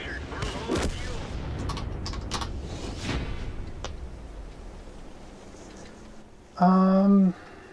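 Artillery fire and battle noise hitting a tank in World of Tanks: a thick rumbling barrage of booms and cracks that fades out, then a brief loud tonal blip near the end.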